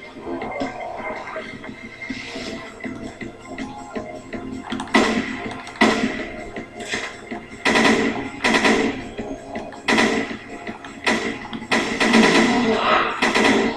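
Gunfire in the video game Resident Evil Revelations 2, raid mode: sharp, loud shots repeat in quick bursts and single cracks over a busy game backdrop, with voices talking in between.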